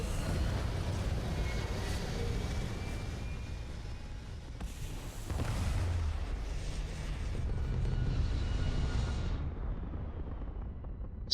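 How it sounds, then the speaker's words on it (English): A deep, continuous spaceship engine roar rumbles throughout, swelling briefly midway before cutting off sharply near the end, like a thruster burn in Starfield. "Engines firing."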